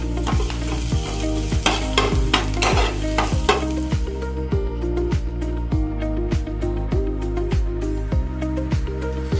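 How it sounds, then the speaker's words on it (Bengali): Grated garlic fries in a pan with a steady sizzle under a strong, regular rhythm of scraping strokes, roughly two per second, as it is stirred. The sound is close and no one speaks. "এবার এখানে আমি গ্রেট করে নিয়েছি রসুন কুচি, এটা দিয়ে দেব। ভালো করে গ্রেটটা ভেজে নেব।"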